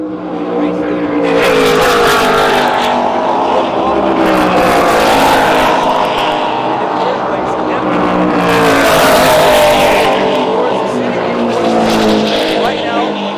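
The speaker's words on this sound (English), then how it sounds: "it's got some Scorpion Frank McComas engines in it" Offshore racing powerboats fitted with Scorpion Frank McComas engines roar loudly and continuously during an offshore world championship race, the noise surging in waves as boats pass, with a commentator talking over it throughout.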